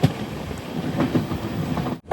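The Panchaganga Express, an overnight train from Goa to Bengaluru along coastal Karnataka, runs with a continuous close rumble and regular clicking wheel beats.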